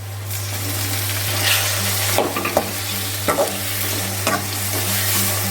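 Tomatoes and onions sautéing in a pan for a traditional village fish curry, a continuous sizzle over a low steady hum, punctuated by several scraping stirs and knocks of the spoon, close with no speech.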